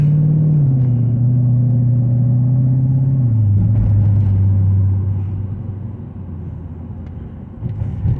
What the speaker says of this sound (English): We're gaining a little bit of speed, but I'm still at pretty low gear.